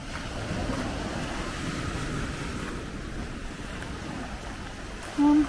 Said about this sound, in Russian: Море.